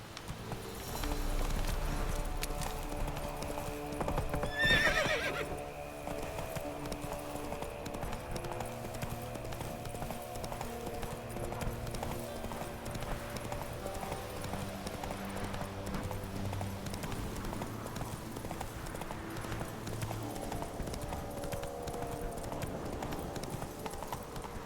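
Horse galloping in The Witcher 3 video game: continuous rhythmic hoofbeat clip-clop under layered game music, moderately loud throughout the run.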